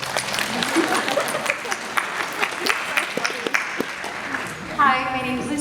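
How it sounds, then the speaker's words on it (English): A convention panel audience at C2E2 applauds Colin at a One Tree Hill reunion, a full, sustained wash of clapping from a large crowd, with a voice breaking in near the end. "A round of applause to Colin for crushing it."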